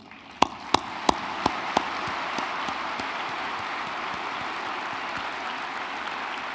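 An audience at a trade day ceremony bursts into warm applause: a few sharp, distinct claps at first, then sustained dense clapping from a large crowd in a hall, steady and moderately loud.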